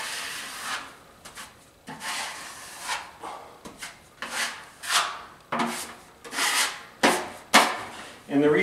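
Lightweight Easy Sand 90 joint compound is skimmed over a plaster wall patch with a trowel: repeated rasping, scraping strokes in an uneven rhythm, close and fairly loud, with short pauses between passes.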